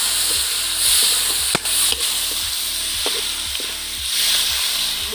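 Tomatoes frying with masala in a pan for chicken curry, a steady close sizzle with repeated scraping stirs every half second or so, and no talk.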